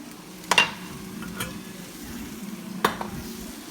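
Meat for çökertme kebab sautéing in a pan, a soft continuous sizzle broken by two or three distinct scraping stirs, close and moderately loud.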